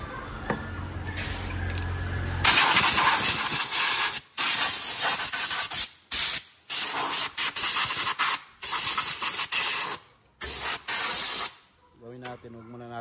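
Air leaking from the engine of a Hyundai Starex GRX that will not start hisses loudly in repeated sharp bursts with brief gaps between them, close by.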